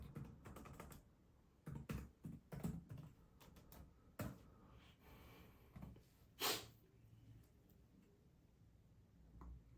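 Bursts of keystrokes on a computer keyboard as C++ code is typed, irregular clusters of clicks with pauses between them, close and fairly quiet.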